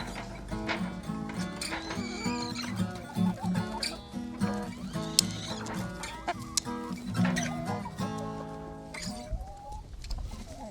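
Several chickens cluck and chatter busily nearby while eating oysters, overlapping short calls with soft pecking and shuffling underneath, no talking.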